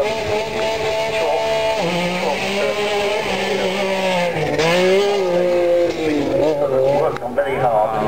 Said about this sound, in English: These cars are even more violent sounding, and they sort of throw gravel everywhere.